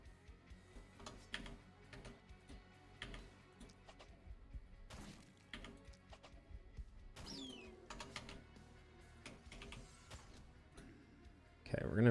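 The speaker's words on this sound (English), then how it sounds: "Oh, the bird sounds are so sad." Short bird chirps from the video game The Last Spell, brief and faint, scattered among clicking interface sounds and a busy game soundtrack.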